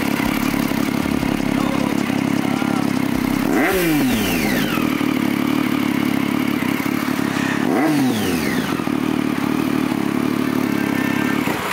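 A sports motorcycle engine idles loudly nearby and is revved sharply twice, each rev climbing fast and then dropping back to idle.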